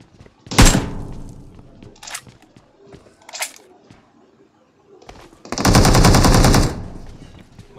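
Video game gunfire comes as a loud rapid burst, then a few single shots, then a longer sustained automatic volley, all close and punchy.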